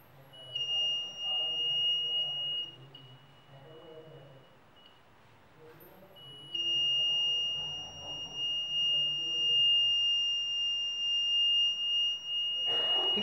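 A DIY fire alarm circuit on a PCB sounds its buzzer as a steady, piercing electronic tone that cuts out briefly and then resumes, with someone talking quietly underneath.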